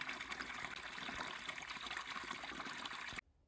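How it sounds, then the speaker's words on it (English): A spring along the Appalachian Trail trickles and gushes in a steady close stream of running water that stops abruptly near the end. "And here's the spring that we're getting water from."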